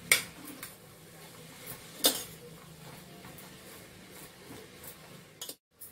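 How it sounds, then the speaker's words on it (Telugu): A spoon mixing spices into masala khichdi in a pot, giving sparse light clinks and scrapes of metal against the pot, with a louder knock near the start and a short silence at the end. "ఇలా అన్నీ వేసుకున్నాక ఒకసారి మిక్స్ చేసుకుందాం."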